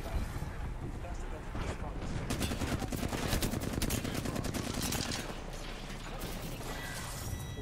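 Kraber sniper rifle shots during an Apex Legends match on Storm Point, sharp gunfire blasts mixed with rapid bursts and mechanical clatter in a dense, loud game mix, with players talking over the action.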